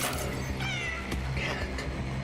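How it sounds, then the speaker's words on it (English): A cat meows loudly and repeatedly up close in the horror video game Cronos: The New Dawn, over a dense, droning game soundscape. "A cat out of nowhere"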